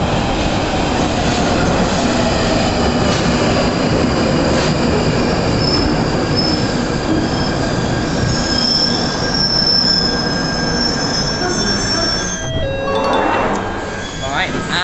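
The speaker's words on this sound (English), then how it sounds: "we're going to wait for a train to Morden to take us to Stockwell" A London Underground train pulls into the Kennington platform with loud, sustained wheel squeal and rumbling rail noise that fills the station, close and continuous as it slows.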